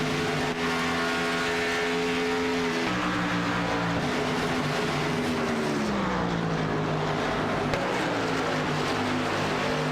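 Race cars lapping a track in the iRacing sim at Texas, a steady engine drone with shifting pitch as cars run close together, loud and continuous without voices.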